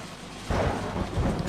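Rain and a low rumble of thunder in Euro Truck Simulator 2, the steady downpour swelling suddenly halfway through as the thunder rolls in, with no voices.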